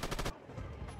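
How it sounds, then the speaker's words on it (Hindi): In an open-world crime bank-robbery video game, a brief loud burst of rapid automatic gunfire cracks out several shots in quick succession, then cuts off into a low background hum. "अब गोलियाँ चलाई जा रहा है भाई"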